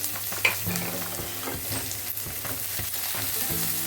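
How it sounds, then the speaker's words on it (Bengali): Chopped onion fries with bay leaf in oil in a pan, giving a continuous close sizzle broken by soft stirring scrapes, with no talking. "আর অ্যাড করে দেবো কুচুনো পেঁয়াজ পেঁয়াজটা ব্রাউন করে ভেজে নেব প্রথম"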